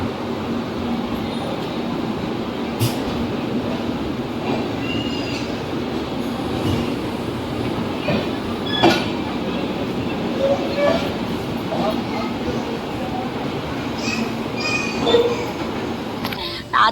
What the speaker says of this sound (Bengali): তো ট্রেন কিন্তু আমাদের ছেড়ে দিয়েছে একদম টাইমেই,